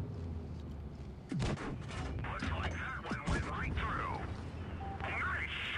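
Heavy guns boom in a Warhammer tank battle game, sharp blasts near 1.4 and 3.2 seconds standing out over a continuous rumbling battle din, with people talking over the action.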